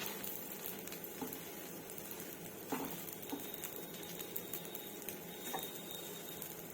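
Pesara dosa, a mung bean crepe, cooks on a griddle over a high flame, making a soft, steady sizzle with scattered small crackles and pops at low volume.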